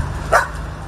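A single short bark from a search and rescue dog at an earthquake drill rings out over a steady low background hum, moderately close.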